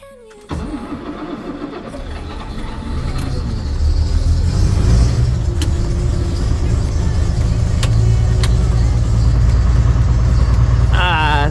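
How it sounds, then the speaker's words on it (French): A tractor engine turns over and catches in a cold start, then settles into a loud, rough idle that swells slightly and holds steady, with a few sharp knocks and clanks cutting in near the close. "Un petit démarrage à froid"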